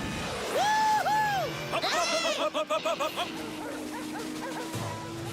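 Several cartoon sled dogs yip and bark excitedly in quick bursts, with high whining tones rising and falling nearby.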